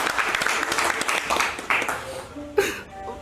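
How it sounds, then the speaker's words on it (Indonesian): Brief burst of group clapping in a casual closing gathering, dense for about two seconds then tapering off, with voices and chatter mixed in. "Semua tepuk tangan buat Aloy."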